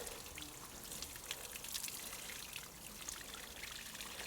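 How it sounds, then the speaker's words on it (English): Water pours steadily into a bonsai pot to flood it, a continuous close trickling and splashing stream. "filling it up with water."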